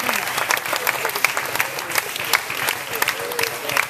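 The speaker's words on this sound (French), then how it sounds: "Oui, vous pouvez applaudir les bénévoles." A crowd at a tango festival in Paris applauds steadily, a dense patter of clapping from many hands filling the room throughout, with a murmur of voices underneath.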